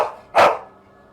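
A dog gives a single sharp bark at home, loud and close, following a fainter earlier yelp, with quiet room tone around it.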